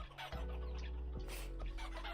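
Hens in the survival game Vintage Story clucking around a hen box, a few soft near cackles over a steady low hum.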